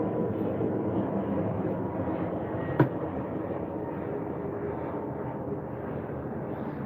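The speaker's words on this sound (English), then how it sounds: "this fucking loud ass plane passes by" A loud airplane passes overhead as a broad, steady roar that fills the whole stretch, with one brief sharp click partway through and no voices.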